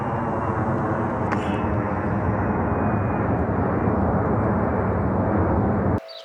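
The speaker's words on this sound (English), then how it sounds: "This looks more like a private jet." A steady, loud roar of a private jet flying overhead fills the scene, continuous and broad, cutting off abruptly near the end.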